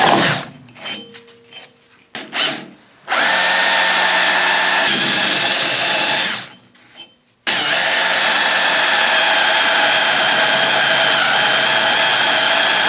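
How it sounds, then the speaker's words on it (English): Drilling two holes into a seized pulley on a snowblower, with cutting oil on the bit: a loud, close, steady power-drill whine running in long continuous bursts, broken by short pauses and uneven starts. "First of all, I got to drill my 2 holes."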